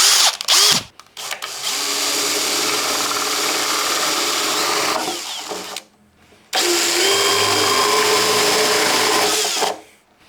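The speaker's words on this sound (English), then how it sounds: "if it don't work, we'll just drill a bigger hole" Power drill boring a hole in the body of an old Yamaha F370 acoustic guitar. It gives two sustained loud whining runs separated by a brief pause, with short bursts and clunks at the start.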